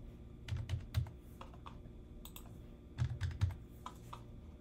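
Keys clatter on a computer keyboard as a password goes in, quiet, close taps in two short bursts with brief pauses between them.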